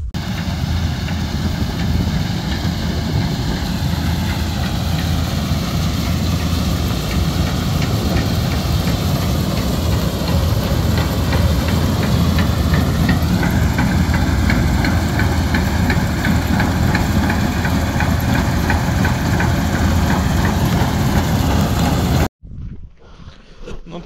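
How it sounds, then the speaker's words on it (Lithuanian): A farm tractor runs steadily at idle for over twenty seconds, a close, even low rumble with a faint knocking pulse, before cutting off abruptly near the end. "Nu tai parvarė pats brolis traktorių"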